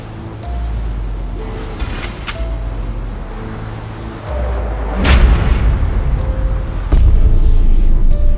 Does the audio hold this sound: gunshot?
yes